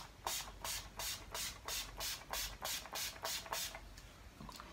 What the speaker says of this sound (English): I use the Urban Decay All Nighter makeup setting spray